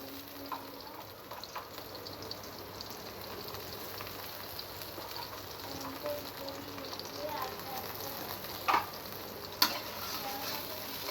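Ginger paste fries in a pan for a thin rohu fish and pointed gourd curry. A soft, steady sizzle runs throughout at moderate distance, with a few sharper clicks near the end.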